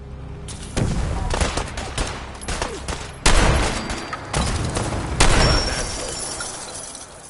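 A loud volley of gunfire in a video game battle, heavy rattling bursts with a few sharp, near shots and some shattering, continuing throughout with little pause.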